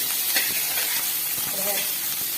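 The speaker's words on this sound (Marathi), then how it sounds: "पाच मिनटं आता फ्राय करून घेते" Cumin and spices sizzling in hot oil in a pan for a soybean curry, a steady close hiss of frying that runs unbroken throughout.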